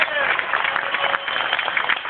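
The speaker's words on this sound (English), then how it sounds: "By round of applause, ladies and gentlemen, how many people cruised with Royal Caribbean before?" A Royal Caribbean cruise ship audience applauds in a dense, steady wash of many hands clapping. The clapping is loud and fills the hall throughout.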